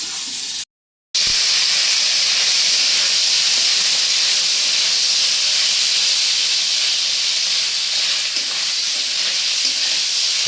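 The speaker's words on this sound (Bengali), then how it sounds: "একটু হালকা লাল লাল হওয়া পর্যন্ত ভাজবো।" Loud, continuous hiss of frying in a pan while making vegetarian chickpea dal, a steady close sizzle running unbroken after a brief silent gap near the start, no voices.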